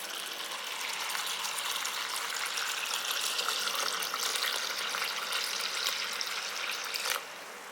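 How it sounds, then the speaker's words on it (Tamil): Soaked jowar (sorghum) grains are washed in a bowl of water, with a steady, close rush and swish of water that continues for about seven seconds before dropping off abruptly. "இப்போ இதை நல்லா கழுவிக்கலாம்."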